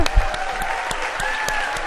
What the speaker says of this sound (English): let's give Stephen one more round of applause